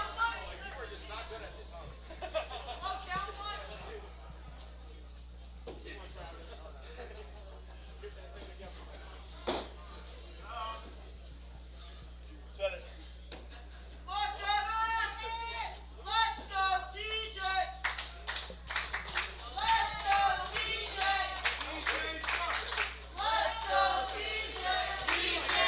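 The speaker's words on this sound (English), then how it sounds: "Crowd certainly showing their support for both competitors" A pro wrestling arena crowd claps and cheers for both competitors, scattered applause building into dense, rapid clapping and chatter toward the end, with a commentator talking over it.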